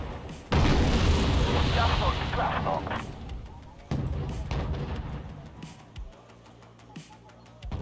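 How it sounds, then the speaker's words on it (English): Artillery and mortar fire in a Wargame/WARNO real-time war game: loud booming blasts, a heavy sustained one opening and another midway, followed by several sharper distant pops. "I'll wait till they start firing again before I fire."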